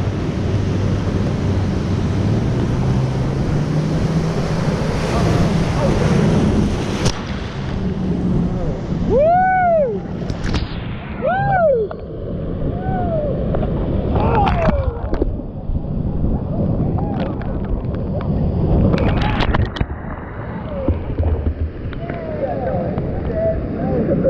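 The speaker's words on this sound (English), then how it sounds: "Upset Rapids. First one of the morning, hanging on." Upset Rapids in the Grand Canyon roar as broad, rushing whitewater, with wind buffeting the microphone and splashes surging through the clip. Voices shout now and then over the churning water.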